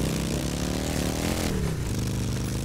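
A motorcycle engine revs in a video game, a steady close drone whose pitch climbs and then falls away, heard alone with no talk over it.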